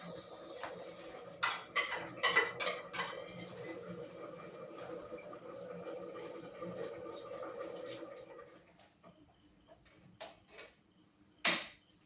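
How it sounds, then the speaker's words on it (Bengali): A metal lid clatters onto a cooking pot of mutton curry, with several close clinks and scrapes of metal followed by quieter stirring and a final sharp clank. "ঢাকনি লাগানোর পালা"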